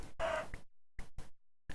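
Chickens cluck in short, separate bursts in Minecraft with the Better than Wolves mod, close and fairly quiet with silent gaps between calls.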